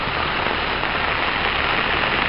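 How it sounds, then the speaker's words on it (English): Heavy rain pours steadily outside during flooding, a loud, continuous broadband hiss of drops drumming on surfaces with no pauses, and no voices over it. "Well, it's not going to stop raining for hours."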